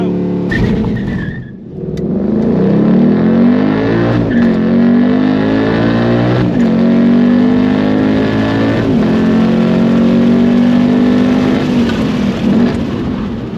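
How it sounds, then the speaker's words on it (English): A Ford Mustang Mach 1 launching off the line at full throttle on a track, engine roaring loud and close as it climbs through the revs with gear-change dips, steady heavy drone throughout. "So clutch in, first gear, full throttle, and"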